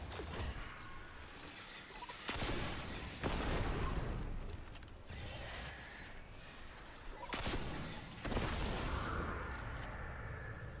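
Rocket launcher fire and explosions in Destiny 2, with several heavy booming blasts spaced a couple of seconds apart over a dense, rumbling battle din throughout.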